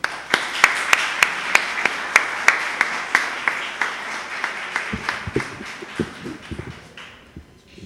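An audience applauds at an evening tribute event in Spanish, with steady rhythmic claps that thin out toward the end.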